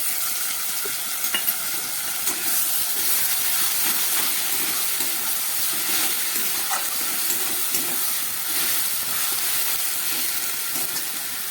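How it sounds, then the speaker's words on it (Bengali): Paste of green chili, onion and black pepper sizzles steadily in a pan after fried onion and potato, for a fish-head curry; a constant frying hiss carries the whole time with faint stirring scrapes and no talk. "এবার দিয়ে দিচ্ছি এই যে পেস্ট করে রাখা কাঁচা লঙ্কা, একটা পেঁয়াজ আর গোলমরিচ"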